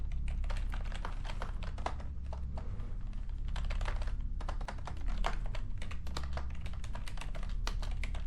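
Rapid continuous clicking of fingers typing on a computer keyboard with repainted, reprogrammed keycaps, close and crisp, a steady uneven patter of keystrokes with no voices.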